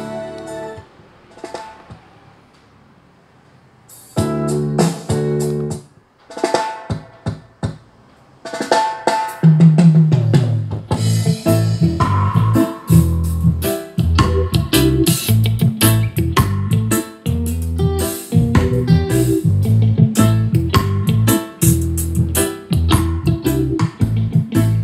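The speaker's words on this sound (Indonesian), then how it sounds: "Kemudian saya akan mencoba suara musiknya melalui USB." Music played from a USB stick through a Bismark portable speaker, beginning after a few seconds of quiet with sparse hits, then a full, loud, steady mix with strong bass and drums for the rest of the clip.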